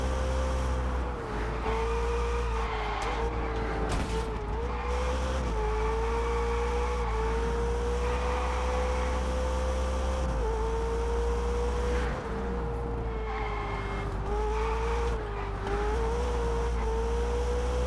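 A car engine drones steadily while driving in the racing game Test Drive Unlimited Solar Crown, its pitch rising and dipping with gear changes and throttle, loud and continuous.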